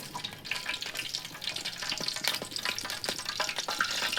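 Coconut oil already used to fry chicken heats in a pan for dragon chicken, giving a continuous close sizzle with scattered crackles and light scraping clicks.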